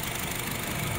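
A 2015 Honda HR-V with a 1.5 engine and CVT idles with a smooth, steady low hum. The sound is close and even over about a second, with no talking.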